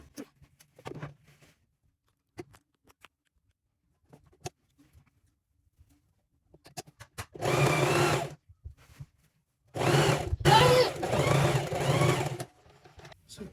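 A sewing machine stitches fabric for an agbada kimono bubu in two loud, steady whirring runs of a second or more, after scattered small clicks and fabric handling, with no voices.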